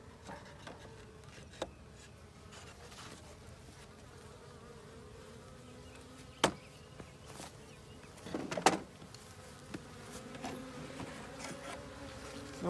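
Wild honeybee swarm in a bee yard, a faint continuous buzz of many bees with louder individual bees passing close now and then, plus occasional clicks and knocks from handling.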